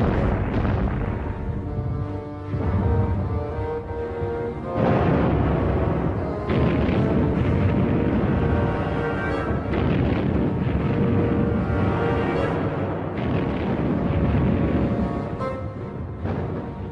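Heavy World War I artillery bombardment on the Western Front: continuous rumbling booms and overlapping blasts rolling on for the whole stretch, dense and loud with no pause.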